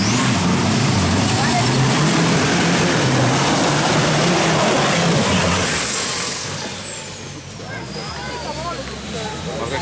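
A car's engine in the PS2 off-road game Veglio 4x4 drives a steady loud whine with a high whistle sweeping across the top, all under constant engine roar. Voices are heard over it, and the noise eases slightly near the end.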